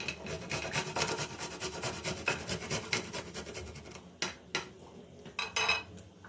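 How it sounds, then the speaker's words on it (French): A garlic clove is rubbed rapidly over a grater in steady, close scraping strokes for several seconds. It then slows into a few separate, sharper rasps, with no talking. "Un petit gousse d'ail comme ça, on va le râper"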